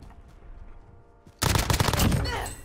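Sudden burst of rapid gunfire in a video game sniper fight, loud and dense after a quieter stretch with faint background noise, sustained shots continuing to the end.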